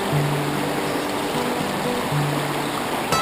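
Water in a cold, clear creek in Northeast Victoria flows in a steady, close, rushing burble with no pauses. A faint low hum lies underneath and no one speaks.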